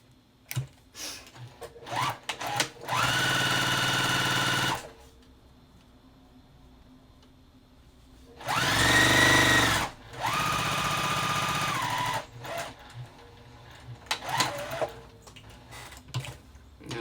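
A sewing machine sews quilt pieces at a quarter-inch seam in three separate bursts, each a loud steady whir of a couple of seconds, separated by quieter handling noises and fabric rustling.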